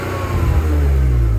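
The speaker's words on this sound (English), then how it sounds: "So I've got the engine running," A 1999 BMW Z3 2.8 with a manual gearbox revs its engine up from idle, giving a steady, close, throaty hum that rises and holds with no talking over it.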